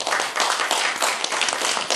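Audience applause in a hall after a presentation at a Buddhist monastic education seminar, dense steady clapping from many hands filling the whole stretch without a break.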